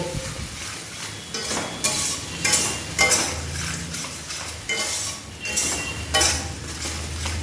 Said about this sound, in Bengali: এবার এটাকেও ভালো করে কষে নেব